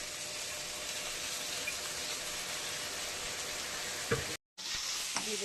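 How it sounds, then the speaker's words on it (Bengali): Even, hissing sizzle from spinach frying in a pan on the heat, steady and close, broken by a short silent cut near the end. "এই পালং শাকের আনাজ প্রায় ভাজা হয়ে গেছে"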